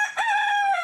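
A rooster on a farm crows once, loud and close, a sustained harmonic call that rises and then holds before trailing off, with no other sounds.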